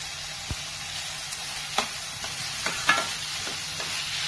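Mushrooms and onions sizzle in a frying pan with a steady hiss, broken by several scraping stirs and light clinks of a utensil against the pan, close and unaccompanied by speech.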